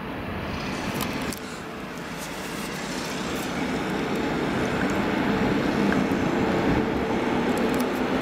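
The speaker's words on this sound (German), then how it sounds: "Hier könnt ihr sehen, wie die S1 nach Meißen von Dresden-Neustadt herausfährt." An S1 commuter train bound for Meißen pulls out of Dresden-Neustadt station. A broad, steady rumble builds gradually over several seconds, with no talking.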